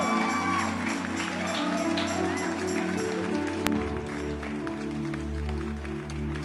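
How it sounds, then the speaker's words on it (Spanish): A church congregation applauds during a sermon, a dense, sustained clatter of many hands clapping close by, with rhythmic music and scattered shouts underneath. "Un aplauso fuerte al Señor."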